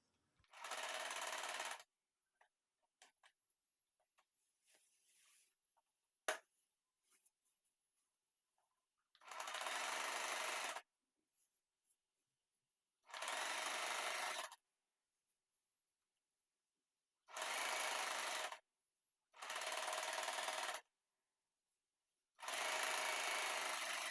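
Usha Janome Wonder Stitch Plus sewing machine stitching bedsheet fabric, running in six separate bursts of steady, fairly loud whirring stitching, with quiet handling clicks between runs and no talk.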